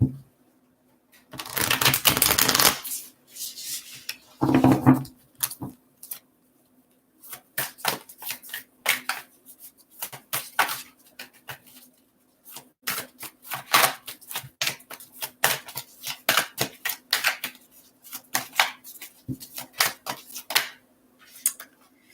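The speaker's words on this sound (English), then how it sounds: "Okay, last shuffle for Scorpios." Crisp bursts of tarot cards being shuffled, a couple of long riffles followed by many quick rhythmic flicks and taps, close up.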